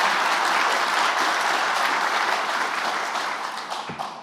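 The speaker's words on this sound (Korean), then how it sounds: "영빈관에서 진행했던 어떤 행사보다 박수 소리가 큰 것 같습니다" Loud, dense audience applause fills the Yeongbingwan hall at a citizens' event, a sustained roar of many hands that eases slightly toward the end.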